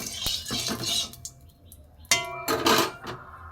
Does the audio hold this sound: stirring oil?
yes